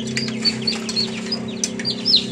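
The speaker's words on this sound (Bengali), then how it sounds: "দেখতে পাচ্ছেন বাচ্চাগুলো বের করা হচ্ছে, এগুলো টাইগার মুরগির বাচ্চা।" Newly hatched tiger chicken chicks in an incubator, a cluster of high, thin peeps and chirps repeating close by over a steady mechanical hum.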